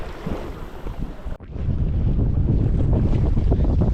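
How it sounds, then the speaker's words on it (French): Steady wind roars and buffets across the microphone aboard a sailboat on the water, a continuous broadband rush that briefly cuts out once, then resumes just as strong. "Surtout quand il y a un peu de vent comme aujourd'hui."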